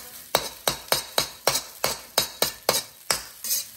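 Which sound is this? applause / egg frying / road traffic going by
egg frying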